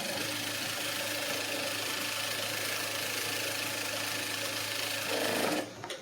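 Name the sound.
sewing machine stitching side seam of lining blouse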